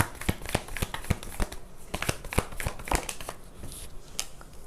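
Tarot cards are shuffled by hand in quick, crisp riffling bursts, close and fairly clear, repeating in an uneven rhythm with no talking.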